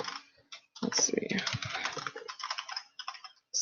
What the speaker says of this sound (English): I'm typing it up right now